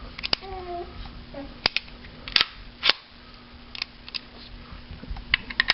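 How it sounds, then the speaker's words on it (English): The lever on a Norinco 213 pistol being moved over to lock the grips in place, heard as several sharp, close metallic clicks and snaps spread across a quiet background. "you just move the lever over and it locks the grips in place"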